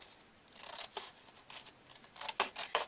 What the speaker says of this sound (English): I'm going to turn it this way so that maybe I can cut it easier with my scissors